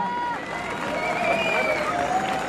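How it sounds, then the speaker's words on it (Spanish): An audience at a competition final in Tenancingo, State of Mexico, breaks into dense, continuous applause, with crowd murmur and whistles mixed in at moderate loudness. "El aplauso, punto."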